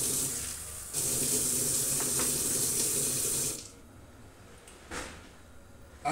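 Water pours steadily into a cooking pot, a loud continuous rush for a few seconds that stops abruptly, followed by quiet kitchen handling with a soft clunk.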